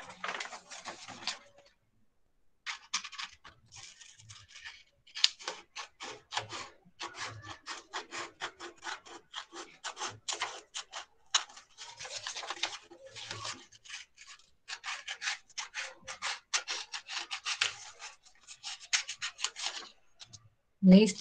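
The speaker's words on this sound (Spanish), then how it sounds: "Pues cuidado con el manejo de las tijeras." Scissors cutting a sheet of paper in two for a paper craft, close, crisp rapid snips and rustles in irregular bursts with brief pauses, heard alone.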